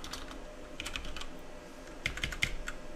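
Someone types on a computer keyboard, a quick run of light clicking keystrokes with a small cluster of sharper taps near the end, close and quiet with no talk.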